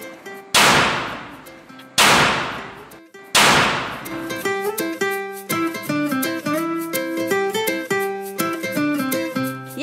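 A popcorn puffing cannon fires three loud, sharp blasts a second or so apart, followed by a rapid metallic clatter and rattling of puffed grains.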